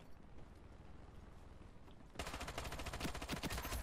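Burst of automatic gunfire in the online shooter Ironsight, starting abruptly after a muffled lull and continuing as loud, rapid shots up close.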